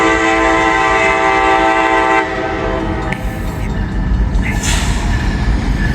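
A passing train sounds a loud, sustained multi-tone horn that cuts off after about two seconds, leaving rolling wheel rumble and a few sharp metallic clanks as the cars go by.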